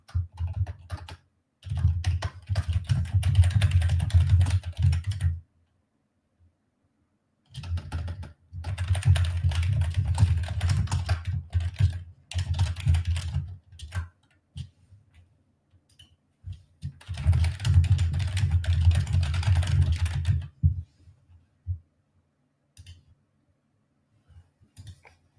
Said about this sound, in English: Sorry about the keyboard.